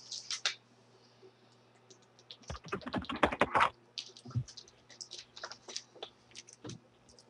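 Typing on a computer keyboard while entering bank reconciliation figures in accounting software: a dense burst of rapid key clicks in the middle, with scattered single taps before and after, close and fairly quiet.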